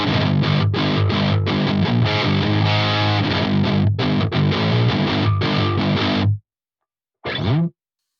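A distorted 7-string electric guitar captured by an SM57 and an E609 microphone blended together chugs through loud, thick riffing, cuts to silence, then rings out one last short chord.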